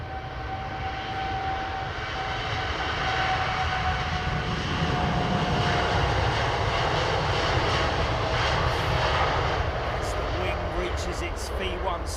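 An airliner takes off at foggy London Heathrow Airport, its engine roar building and holding loud and steady, with a thin high whine running across the sound and someone talking over it.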